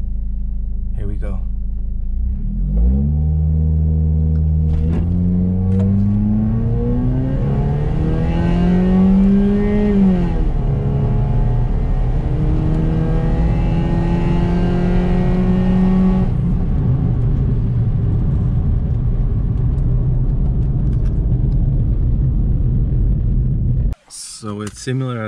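A car launches from about 2000 RPM in a 0-60 acceleration run, its engine note climbing steadily, dipping at a shift, then holding a loud drone before cutting off abruptly with a burst of handling noise.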